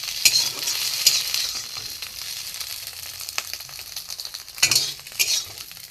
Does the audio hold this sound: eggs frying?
yes